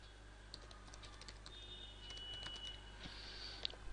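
Fingers typing an email address on a computer keyboard, faint irregular key clicks in short runs over quiet room hum, with a few slightly louder taps near the end.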